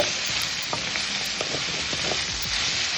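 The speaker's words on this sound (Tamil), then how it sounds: "இப்போ வெங்காயத்தை நாம் இதில் சேர்த்தாச்சு. இது நல்லா வதங்கட்டும்." Chopped onion sautés in a hot pan with oil while a tomato kurma is being made, giving a steady close sizzle with occasional stirring scrapes and soft pops throughout.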